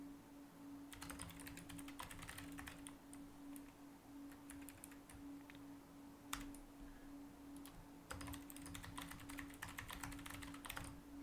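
Quiet, rapid typing on a computer keyboard, with irregular bursts of soft key clicks, short pauses and a steady low electrical hum behind it, with no talking.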